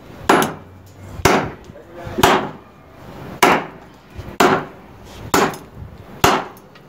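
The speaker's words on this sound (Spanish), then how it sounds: "voy a dar golpes desde acá abajo hasta la punta del filo" Seven sharp, evenly spaced thwacks of an open hand striking along a knife blade from the base toward the tip of the edge, each a loud, close impact with a short ringing decay and no talking.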